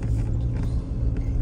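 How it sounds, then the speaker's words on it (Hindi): A car climbing uphill on a narrow mountain road in rural Himachal Pradesh, a steady low engine rumble with faint mechanical rattles, close and continuous, with no talk. "अब यहाँ से चढ़ेगी गाड़ी ऊपर।"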